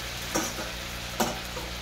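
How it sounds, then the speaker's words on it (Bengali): Ginger and cumin masala sizzling steadily in a hot pan, a close, continuous frying hiss with two brief stirring scrapes, no talk. "ভালো করে লাল লাল করে ভেজে নেবো"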